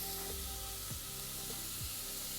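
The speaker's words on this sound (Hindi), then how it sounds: "अभी फ्राई हो रहा है प्याज और गोल्डन ब्राउन होना है।" Onions frying in a pan for chicken chops give a steady soft sizzle, faint and continuous, with a few light scraping or stirring touches.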